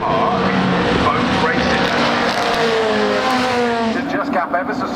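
Race cars roar past at close range during an Intermarque Silhouettes race at Brands Hatch, engines revving and tires squealing, a dense, continuous wall of motor noise throughout.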